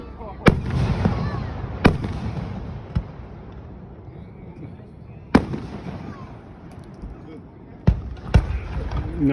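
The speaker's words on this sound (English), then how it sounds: "No, I just wanted to get one firework at a fireworks tent." A single store-bought firework from a roadside fireworks tent, set off for the Fourth of July in Gouverneur, New York, gives a string of sharp cracks spaced a second or more apart, with voices murmuring beneath.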